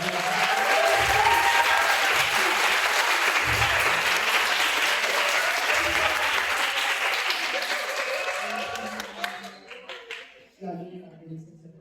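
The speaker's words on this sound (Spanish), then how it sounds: "Un aplauso." Audience applause at a panel discussion event, a dense steady clapping that holds for most of the stretch and then thins into scattered claps, with a voice speaking underneath.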